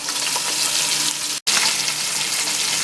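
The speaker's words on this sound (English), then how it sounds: "I'm gonna put my onion in there, the sweet pepper" Onion and sweet pepper frying in a little oil in a pan for Jamaican callaloo and okra, a loud steady sizzle close up, broken by a very brief gap midway, with no talk.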